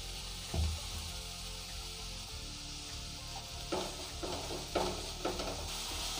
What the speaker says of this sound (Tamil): சேர்த்துட்டு இதை நல்லா வதக்கிடுங்க